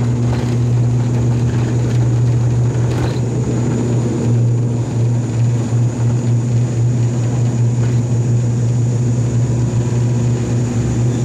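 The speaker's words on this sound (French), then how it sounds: "là, on va embarquer dans notre petit avion qui est juste là" A small propeller plane sits at boarding in French Polynesia, its engines giving a loud, steady droning hum with a constant low tone that continues throughout, with no speech.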